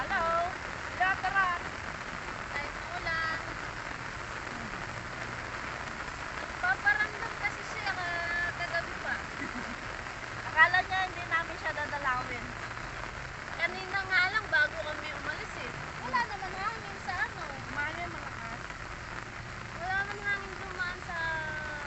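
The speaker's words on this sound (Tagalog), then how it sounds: "Kahit ulan." Steady rain falling outdoors in the Philippines, a soft continuous patter throughout while people talk over it at moderate distance.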